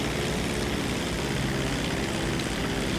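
Steady propeller engine drone of the Dodo seaplane in GTA 5 Online, a loud unbroken buzzing hum filling the whole stretch with no voices.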